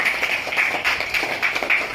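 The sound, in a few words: classroom applause for a classmate's reading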